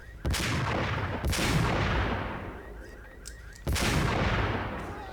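Three heavy gunshot blasts from the PC game Max Payne ring out at uneven intervals, each with a long booming decay, loud and close.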